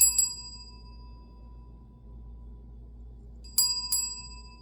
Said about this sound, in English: I'm going to ring the bell one more time just to ground the energy.